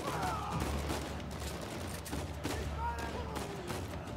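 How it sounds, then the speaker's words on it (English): Blind-fire gunshots in Uncharted 4, a loud, continuous clatter of gunfire and impacts throughout, with voices and game sounds layered over it. "Blind fire, that's a new one."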